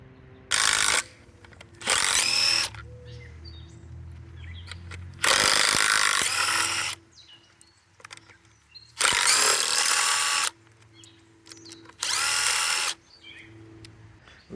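A power tool spins out the bolts of a motor plate on a Hayward Super Pump, giving five loud whirring bursts of about a second each, separated by quiet gaps with faint clinks.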